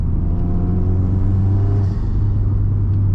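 Inside the cabin of a 2006 Subaru WRX wagon while driving, a steady low engine and road drone hums without a break, with faint small rattles and no one talking.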